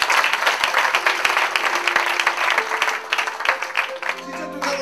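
A church congregation applauds vigorously during a sermon, a thick burst of clapping that fades toward the end as a voice and a sustained tone come in.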